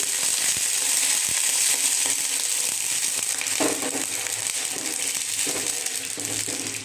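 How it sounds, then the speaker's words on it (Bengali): Lentils and greens fry in a pan as a little water goes in, giving a loud, continuous sizzle with scattered scraping and clattering and no talking. "মসুর ডালটা দেওয়ার পর আমি একটু নেড়ে চেড়ে দিচ্ছি। এখন দিয়ে দিচ্ছি অল্প কিছুটা জল।"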